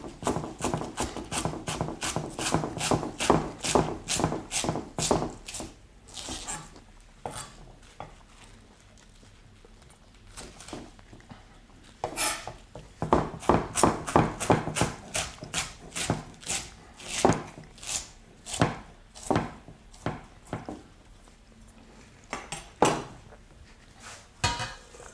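A knife taps rapidly against a cutting board while finely slivering red spring cabbage, bursts of quick rhythmic chops with short pauses between runs, close and crisp with no talking.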